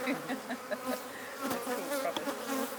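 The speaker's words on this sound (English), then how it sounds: "I didn't expect that we'd be able to get suited up and come over here and check out the bees." Honey bees swarm around their hives in a continuous, dense buzz lasting the whole moment, close and steady with individual insects droning past near the listener.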